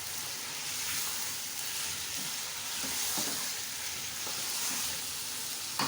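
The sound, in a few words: mutton chops frying with green chillies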